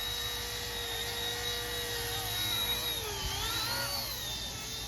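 A steady high-pitched whine of small rotors and a motor from a Bell 206 RC helicopter, slightly shaky, rising and falling slightly in pitch as it hovers nearby.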